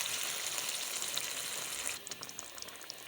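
Hot oil sizzles steadily under mixed fried vegetables for a vegetable bhujia, then the hiss shifts and crackles unevenly as half a cup of water is poured into the pan, close and fairly loud with no talking.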